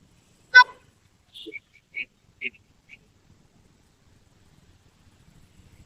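Short car horn toots sound on a busy road near a corner plot in Kumuthepalli, Hosur: one sharp blast, then a few quicker honks trailing off, with faint traffic rumble afterward.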